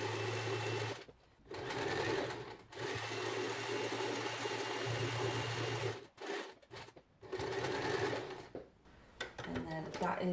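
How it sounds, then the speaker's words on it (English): A sewing machine stitches a buttonhole in denim using a 4-stage buttonholer, running in steady whirring bursts separated by short pauses, with brief quiet talk between runs. "Using a 4-stage buttonholer on this machine."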